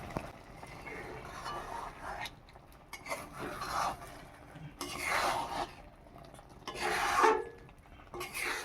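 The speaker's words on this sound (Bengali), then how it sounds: "আমি এবারে এটা একটু খুন্তি দিয়ে নেড়ে দেবো" A spatula stirs bitter gourd dal chorchori in a pan, giving quiet scraping and rubbing passes in uneven bursts with short pauses between them.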